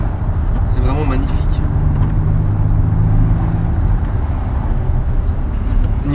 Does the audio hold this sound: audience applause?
no